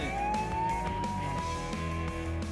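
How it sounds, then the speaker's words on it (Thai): A police car siren wails loud and continuous, its tone sweeping slowly upward, with a low engine and traffic rumble underneath. "นั่นมันเสียงรถหวอที่ไหนนะเกิดอะไรขึ้นน่ะ"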